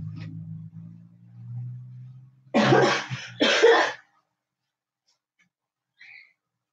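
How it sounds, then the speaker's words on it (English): Two loud, close coughs in quick succession follow a low steady hum, then quiet with a faint brief sound at the end. "I'm a little bit coughing still"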